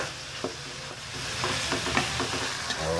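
Ground beef sautéing in a pan for homemade spaghetti bolognese gives a steady close sizzle. Scrapes and stirs from a spoon run through it over three seconds, with no one talking.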